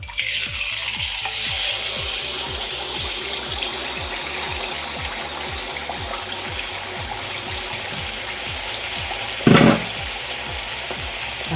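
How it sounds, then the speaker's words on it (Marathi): Wheat flour malpua frying in hot oil, a steady broad sizzle throughout with a rhythmic stirring or scraping pulse beneath and one brief louder clatter near the end. "अशाच प्रकारे मी सर्व मालपोहे फ्राय करून घेते"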